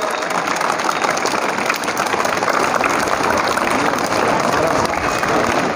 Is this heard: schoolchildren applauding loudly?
yes